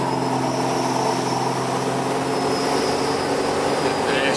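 A 6.7 Cummins diesel truck with S366/S480 compound turbos at about quarter throttle, a steady loud drone with whining turbo tones holding evenly throughout.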